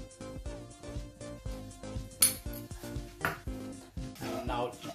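Salt, coriander powder and red chili powder dry roasting in a pan, stirred so the utensil clinks and scrapes against the metal in a steady rhythm, with a few sharper knocks, close and moderately loud.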